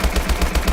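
Rapid automatic fire from the HBRa3 assault rifle in Call of Duty: Advanced Warfare, a steady burst of about six evenly spaced shots over less than a second, close and punchy, with no voices.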